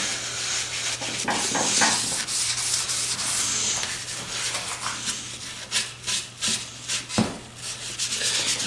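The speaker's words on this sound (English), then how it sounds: "You're just going to keep scrubbing away until the stock has a pretty nice shine" Scrubbing the wooden stock of a Martini Henry Mk IV rifle during cleanup; close, rhythmic scratchy rubbing strokes, steady at first and then breaking into distinct separate swipes, over a low constant hum.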